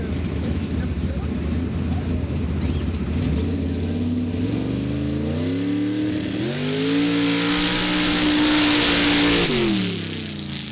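The Yo Mama 3 mud truck makes a solo racing run at a mud drag event in Laporte, Indiana, its engine loud and roaring as it climbs through revs over about ten seconds, with an announcer talking over it.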